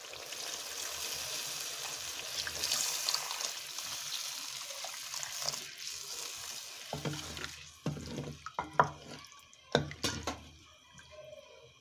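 Water pours into a pot of browned chicken cooking for haleem, a steady hissing stream at first, then sizzling with stirring and clinks from the pot, close up.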